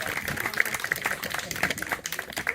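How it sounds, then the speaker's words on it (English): An audience at Fort George, Ontario claps in scattered, brisk applause, close and moderately loud, under a voice that talks briefly. "Yes, you can applaud"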